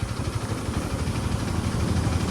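A Honda Supra GTR motorcycle with a 6-speed gearbox and about 76,000 km on it, idling smoothly, a steady, even, low engine hum heard close up and alone throughout.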